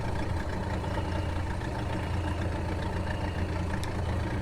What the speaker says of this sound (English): That is a diesel boat engine.